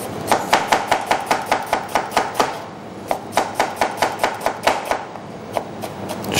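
A knife chops onion on a cutting board in quick, steady strokes, a long run of sharp, close taps with a brief pause midway before the rhythm resumes.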